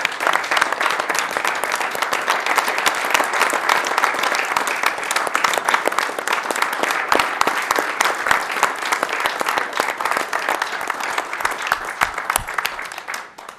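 An audience at a council meeting applauds a retiring fire chief, a dense, steady wash of many hands clapping together at close range, sustained loudly for the whole stretch before tapering at the end.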